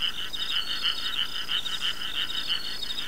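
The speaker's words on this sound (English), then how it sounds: "Sounds like a frog." A frog croaks in a steady, repeating rhythm somewhere in the video game Fragile Dreams: Farewell Ruins of the Moon, its calls fairly faint and close together against a quiet background.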